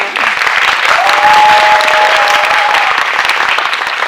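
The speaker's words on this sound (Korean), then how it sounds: "큰 박수로 맞이해 주세요." A cinema audience at a film Q&A welcomes a director with loud, sustained applause, a dense steady clapping crowd filling the room, with a short cheer or whistle-like cry in the middle.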